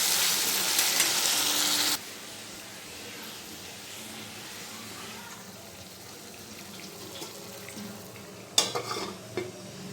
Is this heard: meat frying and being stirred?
yes